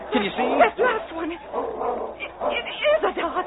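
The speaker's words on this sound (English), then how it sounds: "that's a dog's bark." A dog barks and yips in an old radio drama, the barks mixed in among actors' voices as they talk.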